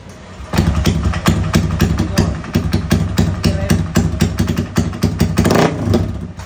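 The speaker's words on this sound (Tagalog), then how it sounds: "Dito nga ay sobrang ingay ng motor." A Yamaha NMAX scooter with a 200cc build and a loud aftermarket exhaust pipe idles up close. It gives a rough, throbbing, steady rumble that swells slightly toward the end.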